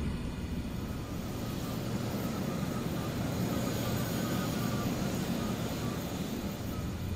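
A steady, loud engine roar from an aircraft on approach to land in Microsoft Flight Simulator, a dense continuous drone that holds unbroken throughout.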